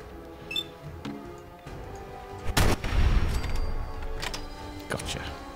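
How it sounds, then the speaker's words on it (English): Gunfire in the video game Fallout 4 cracks out in scattered sharp shots, with a louder burst near the middle and a few isolated reports around it over game ambience. "Still getting shot at from up there."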